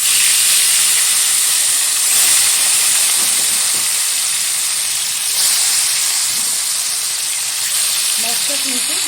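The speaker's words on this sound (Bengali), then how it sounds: "তেলের মধ্যে ছেড়ে সুন্দরভাবে ভেজে নেব।" Small salted shalpiya fish fry in hot white oil, giving a steady, loud sizzling hiss that carries on without a break, with slight swells in intensity.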